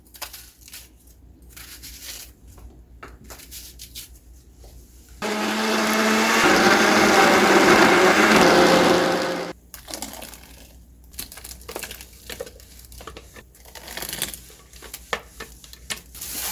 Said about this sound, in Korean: 양파 하나 같이 갈아주고